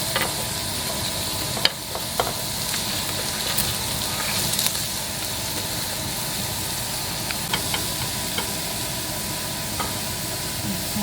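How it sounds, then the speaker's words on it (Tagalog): Garlic, onion and carrots sauté in a pan next to ground meat, giving a steady close sizzle and hiss with occasional light clicks and scrapes from stirring. "Sa side na to, dito na rin ako magigisa ng bawang,"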